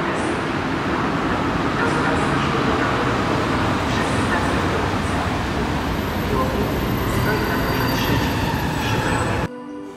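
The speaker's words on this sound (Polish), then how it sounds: "I podstawia się pociąg Intercity Austin do Warszawy Wschodniej." An Intercity passenger train rolls into a station with a loud, continuous rumble of wheels and carriages close by, dropping away suddenly near the end.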